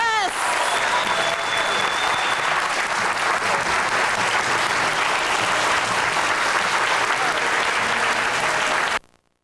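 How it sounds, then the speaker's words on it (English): A large audience breaks into sustained, loud applause at a speech contest championship, many hands clapping densely and evenly for about nine seconds before stopping abruptly. "One round of applause for the best of Region"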